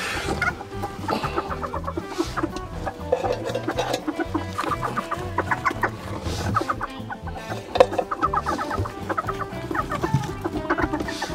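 A broody Serama hen sitting on a large clutch of eggs clucks and grumbles steadily up close, repeated low clucks running throughout with occasional fowl calls.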